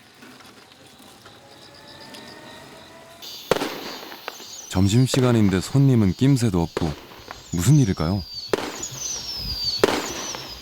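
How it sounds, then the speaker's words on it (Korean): Sharp firecracker bangs crackle in a quick burst in the middle of a village, then a voice talks over the scene while a few more pops ring out. "마을 한가운데서 느닷없이 폭죽이 울려 퍼집니다."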